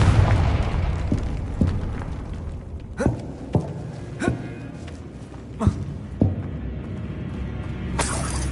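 Confringo fire-spell blasts in Hogwarts Legacy: a series of sharp explosive booms and bursts, about six in quick succession, punching over a continuous rumbling game backdrop.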